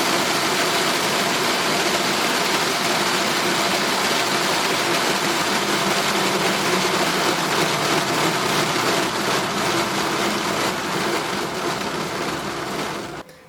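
Stepper motor driven by a Pololu DRV8834 turning 3D printed helical cage gears, a steady whirring drone with a fine buzzing texture, close and constant before cutting off abruptly at the end.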